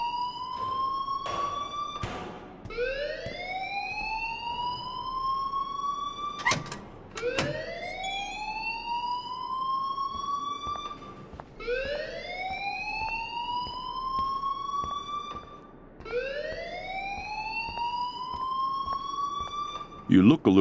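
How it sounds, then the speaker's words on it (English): An alarm sounds in the video game Life is Strange, a loud rising, wailing tone that sweeps upward and repeats about every four to five seconds, with sharp clicks in between. "please turn off that alarm since that's your job"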